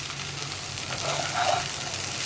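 Drained, washed aval (flattened rice) is stirred in a frying pan for aval upma, giving a steady soft sizzle with faint scraping and stirring that swells slightly midway, no voices.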